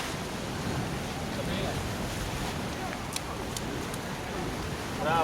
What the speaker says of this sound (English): You see the waves crashing above the rocks.